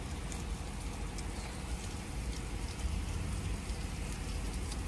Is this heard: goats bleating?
no